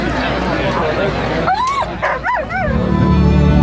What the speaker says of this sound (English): I've got good dogs, and I've bred them and raised them purely for long distance racing.